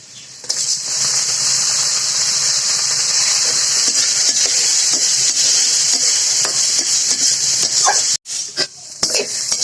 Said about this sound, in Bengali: এখন আমি ডুমুরগুলো দিয়ে পেঁয়াজ আর রসুনের সঙ্গে একসাথে ভেজে নিই